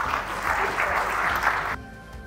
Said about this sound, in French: Je vous demande d'applaudir Frédéric Ferrer